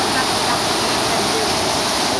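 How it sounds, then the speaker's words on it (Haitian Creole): A waterfall in Lascahobas, Haiti, gives off a steady, loud rush of falling water. The dense hiss is unbroken and close, and it fills the whole moment without pause. "Regardez de l'eau."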